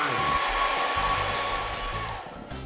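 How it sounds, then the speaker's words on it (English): A modded hair dryer in the video game Lethal Company blows a steady, loud whirring roar that runs on alone, tapering slightly at the end. "Ooh, a hairdryer."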